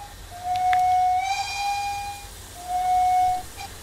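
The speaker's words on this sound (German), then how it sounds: "drum mache ich das mit mehreren Pfiffen" Two train whistle blasts sound in the Train Simulator 2019 game, a long shrill tone followed by a shorter one, clear and fairly close over a low rumble.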